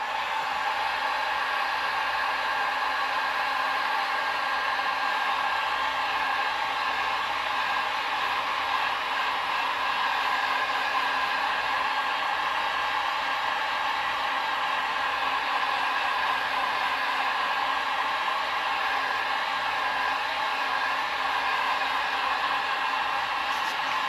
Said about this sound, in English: And I keep the heat gun moving.